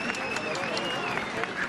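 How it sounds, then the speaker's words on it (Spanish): A crowd applauds and cheers at the close of a Good Friday Holy Burial procession in Sigüenza on a cool night, dense steady clapping with voices mixed in, sustained and close. "Los aplausos rubrican el final de la procesión"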